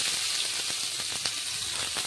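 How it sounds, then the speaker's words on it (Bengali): Chopped onion dropped into oil left over from frying fish gives a continuous close hiss of sizzling with faint crackles, steady and unbroken for the short span, without speech. "তো সে মাছ ভাজা তেলের মধ্যে কুচানো পেঁয়াজটা ছেড়ে দেব।"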